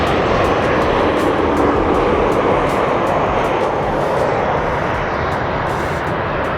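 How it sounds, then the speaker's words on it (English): A large airplane passes overhead as a steady, loud broadband roar of jet engines that holds for several seconds and eases slightly toward the end, with no talking. "We're gonna close out this video with an epic plane coming by."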